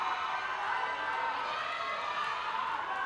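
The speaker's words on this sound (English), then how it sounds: "Crowd going wild though." Dense crowd noise at a SEA Games MMA event in Bangkok, a steady, even wash of cheering and shouting from a packed arena, held at a constant level throughout.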